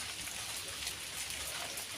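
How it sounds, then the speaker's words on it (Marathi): Rain falls steadily outside, an even hiss of drops on surfaces throughout the short stretch, moderately loud and unbroken, with no voices. "आणि बाहेर बघा आता तुम्ही नजर आमचा असा पाऊस पडतोय."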